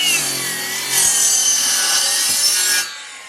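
Hand saw cutting an angle through a wooden rafter for a tiny cabin bunkhouse, a steady, close rasping stroke that runs for nearly three seconds before stopping, with no talk.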